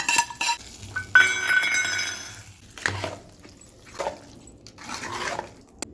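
Fried tempering is mixed into curd rice for daddojanam, a spoon clinking and scraping against a steel or glass vessel in irregular bursts, close and moderately loud, with quiet gaps between strokes.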